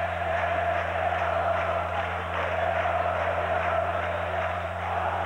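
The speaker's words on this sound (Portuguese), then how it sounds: "A torcida do Corinthians acorda no Pacaembu." Corinthians supporters at Pacaembu stadium during a 1990 Brazilian championship match against Atlético MG, producing a steady, distant crowd roar that holds evenly throughout with a constant low hum underneath.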